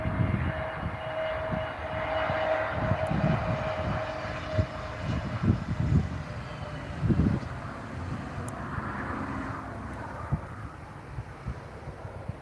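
Scandinavian airline jet at Tenerife airport, a sustained distant jet engine rumble with a steady whine, accompanied by wind buffeting the microphone and occasional faint background sounds.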